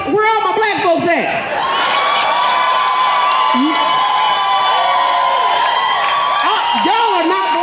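Live audience at a comedy set cheering, whooping and clapping loudly in a dense, sustained roar that fills the room throughout, with shouts rising above the crowd.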